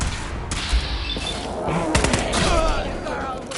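Gunfire in Fallout 4, a dense fusillade of overlapping shots and booming impacts, loud and close, with voices speaking in between.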